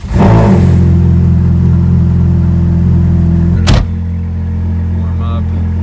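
A Ferrari F430 Spider engine fires up with a loud burst close by, then holds a strong, droning high idle for several seconds before abruptly dropping to a lower, steadier idle.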